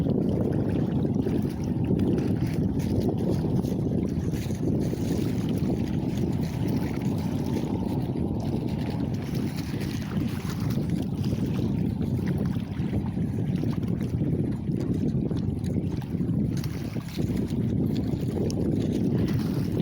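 An aluminum boat fitted with a jet ski engine runs steadily on open water, a loud continuous engine drone and water rush with wind noise across the microphone throughout.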